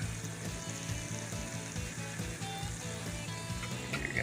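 Biscuit-dough donuts frying in hot oil, a steady close crackling sizzle with faint bubbling, no voices.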